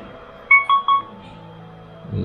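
Three short, clear electronic beeps in quick succession from a Huawei HW2020 Bluetooth speaker entering pairing mode, close and alone, with a faint low rumble at the end.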